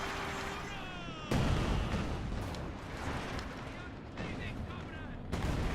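Artillery barrage in a World War II real-time strategy game, with heavy booming shell impacts and explosions hitting at intervals over rumbling battle noise. A commentator talks throughout.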